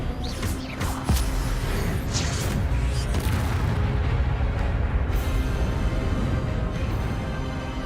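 Expelliarmus disarming spells and Accio casts in Hogwarts Legacy combat land as sharp crashes and booms, one hard hit early, amid a loud, steady wash of battle noise.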